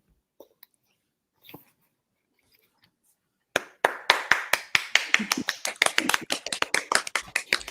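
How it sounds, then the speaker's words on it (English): After a few seconds of near silence and faint stray sounds, a small audience at a poetry reading breaks into close, crisp applause that builds quickly and continues as rapid, irregular clapping. "Round of applause."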